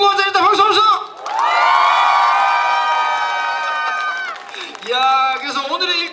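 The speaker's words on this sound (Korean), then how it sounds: "박수, 박수!" A concert audience cheers and shouts loudly after a performer's turn, a sustained roar of crowd voices swelling up and holding before fading, with a host talking over it at the start and end.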